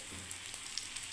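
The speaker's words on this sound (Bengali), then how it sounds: "সর্ষের তেল দিয়ে ভাজবো বন্ধুরা।" Soybean paratha frying in mustard oil, a steady close hiss and sizzle that holds evenly throughout with faint crackles and no talk.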